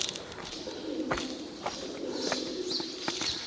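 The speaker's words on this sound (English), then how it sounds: "Birds live in the cave." Pigeons or doves coo inside Skotino Cave on Crete, soft low calls echoing through a huge hall with a few faint chirps and scuffing footsteps nearby.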